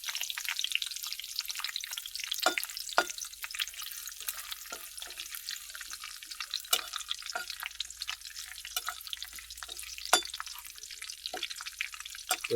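Bay leaves and curry leaves frying in hot oil for chicken biryani, giving a steady, fairly faint hiss with small crackles and pops throughout, no talking.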